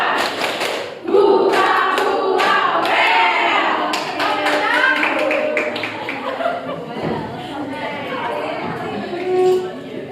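A classroom of students claps together in a steady rhythmic pattern, sharp claps over a lively room of voices and chatter, with a few shouted chants between.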